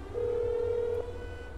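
A single steady phone tone in a video game as a call to the police is placed, about a second long, clear and close over a low background hum.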